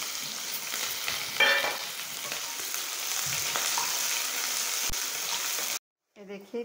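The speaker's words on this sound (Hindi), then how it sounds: "ये देखिए प्याज हमारा बढ़िया से भुना रहा है" Onion, garlic and green chili sizzle steadily in a pan for a pumpkin curry, a dense close crackle with a few stirring scrapes, then a brief cut and a quieter return.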